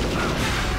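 Grenade explosion in the shooter Perfect Dark: a brief, loud, rumbling blast filling the moment with heavy low boom and crackle.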